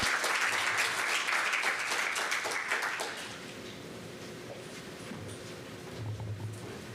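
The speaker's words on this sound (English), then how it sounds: "let's give Reed one last round of applause" A conference audience applauds a speaker, dense clapping for about three seconds before fading into a quiet room.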